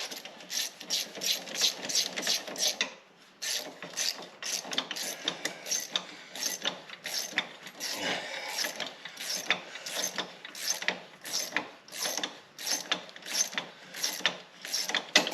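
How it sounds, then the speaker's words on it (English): Small 1/4-inch ratchet clicking steadily as it tightens lift kit bolts on an EZ-GO RXV golf cart in a garage, a rapid run of sharp, close pawl clicks with a brief pause near the start. "I got the little 3/4 or the little 1/4 inch ratchet"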